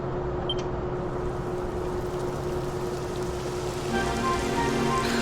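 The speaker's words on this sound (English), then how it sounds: "It would have to go and start raining, wouldn't it?" Steady rain falling in the Dragon Quest XI game, an even wash of drops heard alone at moderate level with no voices.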